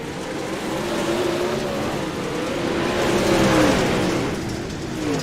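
Race cars roar around the track at Cedar Lake in an Eastern Shore Racing League event, with engines droning and rising in pitch as they pass, loud and steady throughout.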